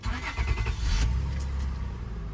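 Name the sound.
Acura MDX car engine starting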